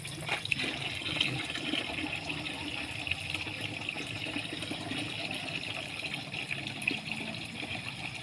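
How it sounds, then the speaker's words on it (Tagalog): Water running steadily as containers are filled at a shared communal water source, a continuous broadband rush lasting throughout with no talk. "Ginabi sa pagkakarga ng tubig si lola."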